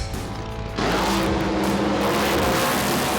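A 4,000 horsepower nitro funny car at a drag strip erupts into a sudden, overwhelming roar that holds at full, dense intensity, drowning out everything around it.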